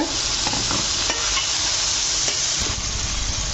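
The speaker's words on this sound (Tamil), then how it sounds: "இதில் தக்காளி நல்லா 4 தக்காளி போட்டுங்க." Four tomatoes fry in a hot pan for chicken biryani, a loud continuous sizzle with scraping stirs from a spoon recurring throughout.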